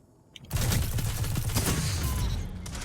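Pulse rifle gunfire in Destiny 2 bursts out after a quiet start, a dense, loud run of rapid shots that keeps going steadily to the end, with no talk.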